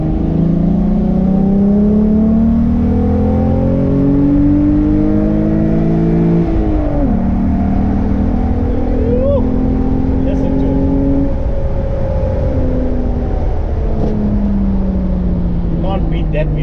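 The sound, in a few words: VR6 car engine revving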